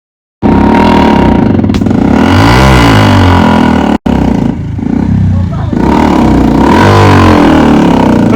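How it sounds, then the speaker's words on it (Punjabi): A motorcycle engine roars loudly and close, revving in rising and falling sweeps with a brief cut-out midway, while people talk over it. "ਇਹ ਜਹਾਜ਼ ਨਹੀਂ ਹੈ ਮੋਟਰਸਾਈਕਲ ਹੈ"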